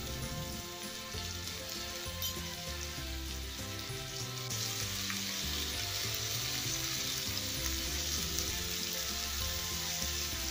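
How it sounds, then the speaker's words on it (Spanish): Chorizo sizzles in a very hot frying pan, then butter is added, and a steady, loud frying hiss fills the pan without pause and grows a little brighter partway through. No one talks over it. "voy a poner a calentar muy bien la sartén y agrego el chorizo"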